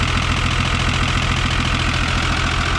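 A 1975 Chevrolet squarebody truck's diesel engine, on fabricated engine mounts, idles close by with a steady, low, rhythmic knocking chug, continuous and loud with no talking.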